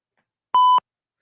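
A single short electronic beep, a clean steady tone lasting about a quarter second, alone against silence.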